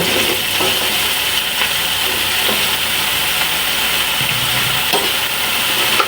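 Bitter gourd (ampalaya) goes into a hot pan for a Filipino sauté, giving a steady close sizzle with occasional scraping stirs and clinks throughout, no talk.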